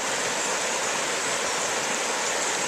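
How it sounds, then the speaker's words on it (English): A river rushes past close by in a steady, dense roar of flowing water that stays even from start to finish with no voices over it. "I'll just show you up the river."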